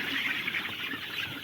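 Farm chickens let out to roam outside the poultry shed give steady chirps and clucks, a busy layered flock chatter with no talking.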